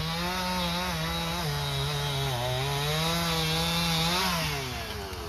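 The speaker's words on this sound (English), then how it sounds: "got our little chainsaw now too" A small chainsaw cuts into a fallen tree blocking a road, its engine a loud, steady, close buzz that rises and dips slightly in pitch as it bites into the wood. No voices are audible.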